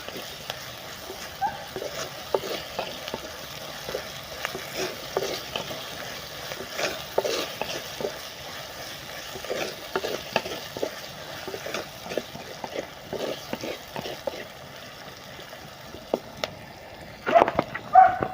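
Green chili, onion and garlic sauté in a pan with oil, giving a steady sizzle and scraping stirs over the whole stretch, near and moderately loud, with a sharper clatter near the end.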